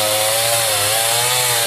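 A chainsaw cuts down trees for heating firewood in Rastan, Homs, Syria, its engine whining loudly and steadily at close range with a slight pitch shift near the end.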